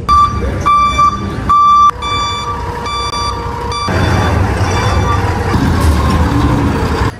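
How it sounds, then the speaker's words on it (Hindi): A truck maneuvering into a goods loading point sounds a series of loud, evenly pulsed reversing beeps, then its diesel engine rumbles and roars louder as it moves into position. "दोस्तों अब हमारा गाड़ी जा रहा है लोडिंग पॉइंट में लगने के लिए"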